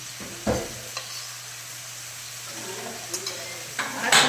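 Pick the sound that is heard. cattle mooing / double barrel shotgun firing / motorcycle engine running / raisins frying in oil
raisins frying in oil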